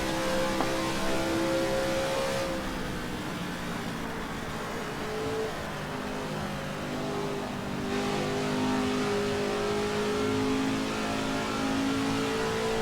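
1965 Indy 500 race cars in Assetto Corsa roar down the back straight, a steady loud engine drone with shifting pitch as several cars run close together throughout.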